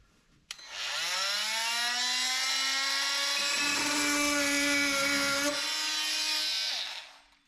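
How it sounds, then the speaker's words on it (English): A multi-tool cuts off broken rivet studs on a C3 Corvette, a thin, high-pitched whine that spins up, holds steady for about six seconds, then winds down, close and alone. "I just cut them off with a multi-tool and then sanded them smooth"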